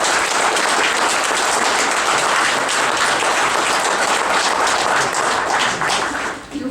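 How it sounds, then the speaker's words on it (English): Steady, full audience clapping at a special announcement event, dense and continuous for several seconds before tapering off at the very end. "You guys don't need to clap for us."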